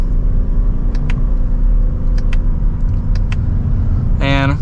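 A 2025 Toyota Crown Signia Limited accelerating in sport mode from second gear, with a steady, fairly loud engine and road rumble from inside the cabin and a few light clicks over it.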